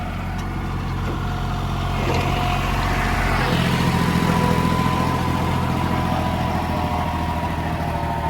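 A tractor pulls a new 8-foot rotavator through wet field soil, its heavy diesel engine droning steadily at close range and rising slightly midway, with no talk.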